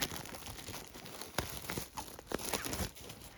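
Packaging around a Hobbit 4K Steelbook is torn open by hand, with crinkly plastic and paper tearing in several short bursts at close range and no talk over it.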